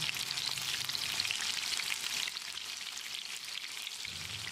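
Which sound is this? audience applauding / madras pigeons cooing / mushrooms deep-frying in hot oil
mushrooms deep-frying in hot oil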